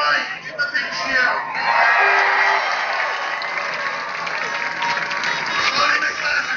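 Crowd applauding and cheering at a Clare hurling championship celebration night in 2013, a dense sustained roar of clapping and whoops from a large audience, steady throughout, with a voice faintly mixed in.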